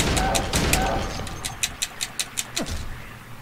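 Gunshots in the video game Silent Hill 2: about ten sharp shots fired at a steady, fairly quick rhythm over a low rumbling background.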